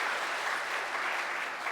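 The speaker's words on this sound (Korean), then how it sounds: "이런 박수는 안 받습니다." A church congregation applauds during an afternoon worship service, with dense, even clapping from many hands that is sustained and fairly close, without talk.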